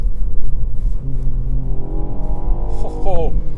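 Ford Fiesta ST hot hatch engine accelerating, a close loud rumble with rising tonal engine notes that climb, dip at a gear change, and climb again.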